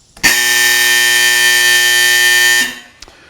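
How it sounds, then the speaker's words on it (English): A single loud, harsh range buzzer blares steadily for about two seconds, signaling a change of range state, then cuts off abruptly. "When we want to change from one state of range to another, the buzzer will go off."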